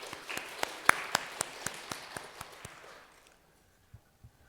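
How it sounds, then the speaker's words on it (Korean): Scattered applause from a church congregation during a Sunday service, a run of distinct, evenly spaced claps that thins out and fades after about three seconds, leaving a couple of faint final claps. "하나님께 영광의 박수 올려드리겠습니다."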